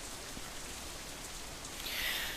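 Rain falling in the visual novel Katawa Shoujo, a steady soft hiss of drops on a surface, even and continuous with no other sounds.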